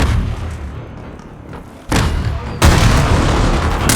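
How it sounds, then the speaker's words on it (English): A concussion grenade detonates in a tactical shooter video game: after a low rumbling stretch, two sharp booming bursts hit at close range, the second one loudest and followed by sustained noisy rumble. "Concussion grenade out."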